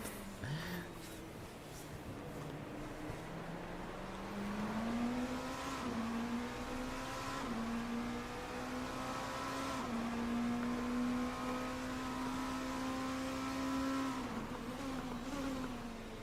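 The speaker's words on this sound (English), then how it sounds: "Let's say this car does sound very nice." A distant race car engine in a 3 Hours of Daytona racing game event drones and rises steadily in pitch, shifting gears now and then, faint and continuous with no talking.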